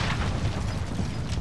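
A deep, rumbling explosion in Call of Duty: Modern Warfare, a dense, sustained boom filling the moment with low roar and crackling debris, loud and close, with no voices.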